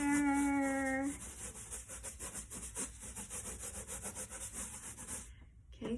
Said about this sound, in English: All I have to do is, remember doing this? Rub it on my hair.